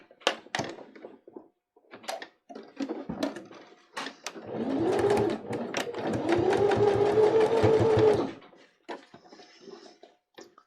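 A sewing machine stitches along the edge of a reusable fabric face mask, a steady whirring run of about four seconds between short bursts, loud and close with a few faint spoken words around it.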